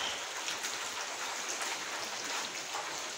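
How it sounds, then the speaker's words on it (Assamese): Heavy monsoon rain pours steadily during flooding in Jorhat, Assam, a dense, even hiss of falling drops that continues without a break and with no voices. "এফালে ইয়া দেখিব পাৰিছে বৰষুণ দিয়ে আছে"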